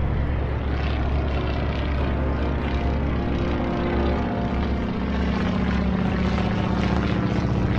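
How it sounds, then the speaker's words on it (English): Steady droning propeller aircraft engines during an airstrike in the naval video game Atlantic Fleet, Royal Navy Battle of the Atlantic, a loud continuous hum with a low tonal throb that holds level throughout, no voices. "I do have an airstrike!"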